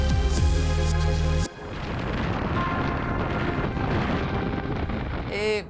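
Cranchi 67 motor yacht running flat out at 30 knots and 2,430 RPM, a loud continuous roar of engines, rushing water and wind buffeting the microphone, after a brief burst of other sound at the start.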